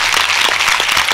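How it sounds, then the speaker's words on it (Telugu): Audience at a church gospel meeting clapping together, a dense, loud burst of applause with rapid overlapping claps through the whole short moment. "ఒకసారి గట్టిగా క్లాప్స్ కొట్టండి వాళ్ళ కోసం"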